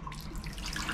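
Cold water running from a hotel room tap in Colombia into a sink, a steady close splashing flow for about a second with no talk.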